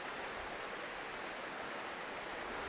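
A waterfall pouring into a pool in the oak woods of Ardnamurchan makes a steady, dense rushing roar that fills the scene without a break, with no voices.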